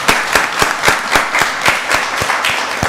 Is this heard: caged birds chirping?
no